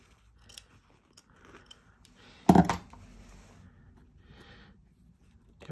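Scissors snip through interfacing fabric in one short, crisp cut close by, set against an otherwise quiet room while sewing a garment facing.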